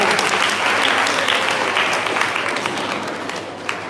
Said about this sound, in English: Give a applause to her.